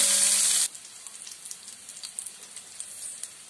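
Large pieces of onion fry in a pan for a ginger pulusu stew. A loud, hissing sizzle bursts out as they hit the hot oil, then quickly settles into a quieter, steady crackle close by.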